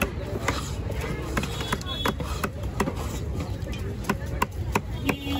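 A knife chops through a 26 kg big trevally fish in rapid succession, sharp dense thwacks in a quick irregular rhythm, close and clear, over a steady noisy background.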